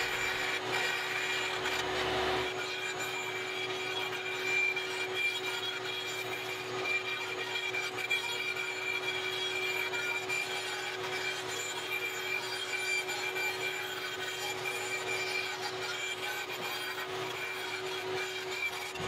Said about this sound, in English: Now with my bandsaw fence set at 3/4 inch, I'm gonna rip off a couple of strips